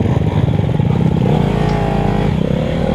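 A dirt bike engine at a 2023 FMHSC hare scramble race at Beer Ranch East roars loud and close, with a steady throbbing rev that shifts in pitch. No one speaks.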